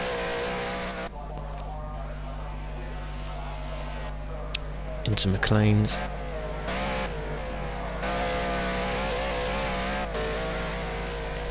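GT3 race car accelerating hard through the gears during a qualifying session, a steady loud engine drone with brief shifts in pitch, heard under a commentator talking.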